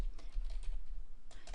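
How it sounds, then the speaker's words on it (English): Rapid typing on a computer keyboard: a dense run of close, crisp key clicks that thins out briefly in the middle before a fresh burst near the end. "that's some fast typing"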